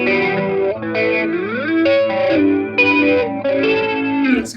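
Guitar played through an analog multi-effects unit set to a slow chorus with slow phaser, sustained chords swirling and shifting in tone, loud and alone without talk.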